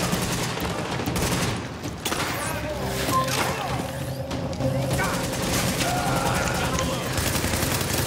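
Dense bursts of gunfire and explosions from Tom Clancy's The Division, heavy booming shots layered over continuous game noise with a player talking throughout.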